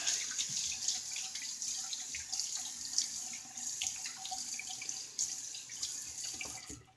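A tap runs steadily into a sink for a quick rinse during a wet shave, a close, continuous splashing stream with faint drips.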